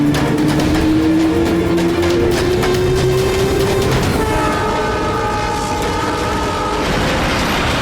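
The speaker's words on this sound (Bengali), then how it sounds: "চলো, ট্রেন ছেড়ে দিল, তাড়াতাড়ি" A passenger train departs a station, sounding a long horn over loud, steady rolling rumble and mechanical clatter as it gets under way.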